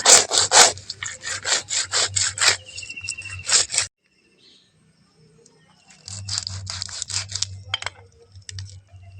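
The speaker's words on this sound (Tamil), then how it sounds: "நாட்டு மீன் குளத்து மீன் இந்த மாதிரி நல்லா தேய்ச்சி எடுத்துக்கலாம்" Fresh pond fish rubbed and scrubbed by hand, heard as close rhythmic rasping strokes in quick bursts, a pause of near silence, then more scrubbing with a low background hum.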